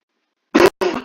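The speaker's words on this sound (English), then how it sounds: "Wait, got a cough." Two harsh coughs from a sick man, the first short and the second a bit longer, loud and close with silence before them.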